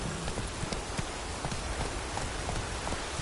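Hoofbeats of the horse Roach in a video game, an irregular clip-clop that eases as the animal slows, set against a soft steady rain-like wash.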